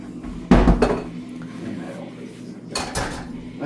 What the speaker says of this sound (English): I'm just going to grab a bowl here pretty quick here, and then I am going to grab the grater